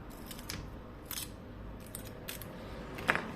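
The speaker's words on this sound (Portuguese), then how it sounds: "Vamos tirar essa fita que eu já isolei aqui" Insulating tape peeling off a laptop motherboard beside the memory slots, giving several brief, faint crackling rips spread over a few seconds against a low background hum.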